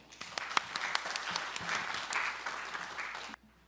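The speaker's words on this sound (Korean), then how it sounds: "큰 박수로 맞이해 주십시오" An audience at a Korean agricultural symposium breaks into steady, dense applause welcoming a presenter; the clapping is moderately distant and even, then cuts off abruptly near the end.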